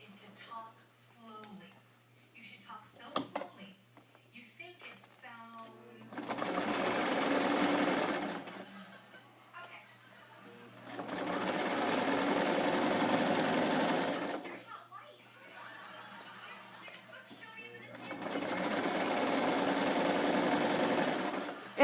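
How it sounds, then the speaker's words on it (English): An electric sewing machine stitches a dart on a vintage-pattern garment in three long, steady runs, each a few seconds, loud and close, separated by pauses, with quieter handling noises and faint voice-like sounds early on. "So let me go ahead and stitch that other dart here."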